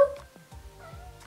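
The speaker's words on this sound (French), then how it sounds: "J'ai un chat qui me fait la conversation." A house cat gives short, chirpy meows and trilling vocal sounds, several brief calls in quick succession, close and fairly soft, as if answering someone.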